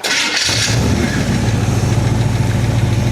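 A Chevy V8 in a casket car build catches after start-up and settles into a loud, steady low rumble with a quick throttle swell at first, running on freshly refilled fuel.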